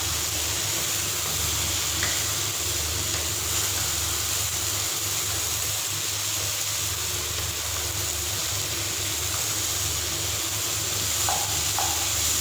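Fried okra is stirred into hot sizzling masala for bhindi gosht, a constant soft hiss and crackle with a few faint utensil clicks, close and even throughout.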